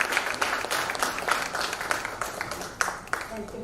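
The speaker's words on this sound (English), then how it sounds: "Please welcome her with a big round of applause" A gallery audience at a chapter launch event in Vijayawada applauds to welcome someone speaker, a dense, steady wash of many hands clapping with a few sharper claps standing out near the end.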